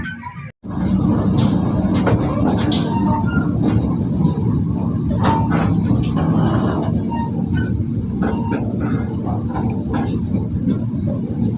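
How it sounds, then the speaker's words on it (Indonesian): A passenger train rumbles through the 949-metre Sasak Saat railway tunnel, a loud, steady, enveloping roar with faint metallic clicks and squeals over it, heard from inside the carriage. "kereta akan melewati terowongan Sasak Saat sepanjang 949 meter, salah satu terowongan kereta api aktif terpanjang"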